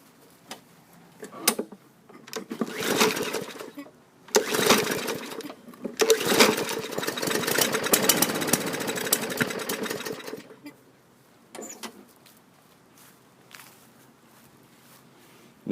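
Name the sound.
Murray small engine running, backfiring and quitting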